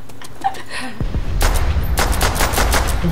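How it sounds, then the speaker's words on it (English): Rapid automatic gunfire from Call of Duty's Nacht der Untoten zombies mode, loud sustained bursts of machine-gun fire after a few quieter clicks and a sharp shot. "Putting a few bullets in there"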